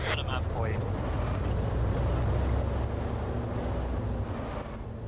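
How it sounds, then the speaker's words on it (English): A UAZ vehicle's engine runs in a military video game during a base raid, a loud, steady low drone that fills the whole stretch without letting up. "I actually don't hear those vehicles just yet, because the engine of the UAZ and this are drowning things out"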